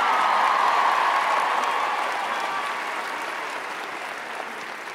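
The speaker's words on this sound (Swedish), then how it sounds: "En varm applåd till Shahed" Warm applause from an audience, steady dense clapping that fades gradually over several seconds.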